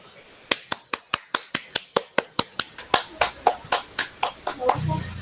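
A group performs a patterned 'tepuk segitiga' clap in a meeting, with about twenty crisp, sharp claps in a steady rhythm that quickens slightly toward the end before dissolving into a brief cheer.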